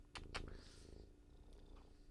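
A pet cat purrs close up, a soft low rumbling purr running continuously, with a couple of faint clicks or rustles near the start.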